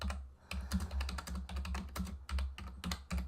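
Rapid typing on a computer keyboard, with dense, uneven bursts of light key clicks close up and fairly quiet, with no voices.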